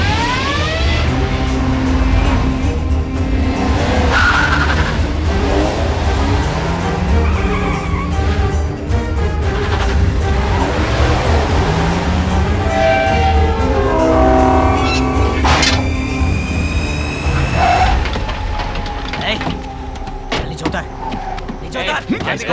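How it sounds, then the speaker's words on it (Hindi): A car starting up and driving off amid a chaotic scene, engine revving and whining under shouting voices and loud bangs, with the motor noise rising and falling throughout. "गाड़ी स्टार्ट कर।"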